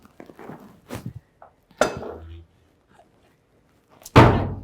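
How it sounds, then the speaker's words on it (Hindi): Door thudding shut in an indoor scene, a loud sharp slam near the end after several smaller knocks and clunks, with a brief voice earlier. "दरवाजा बंद कर दो।"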